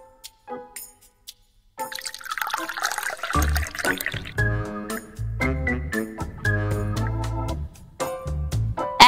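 Cold water splashes and gurgles as it pours from a jug, the flow rising in a loud burst, with musical tones and thumps playing alongside.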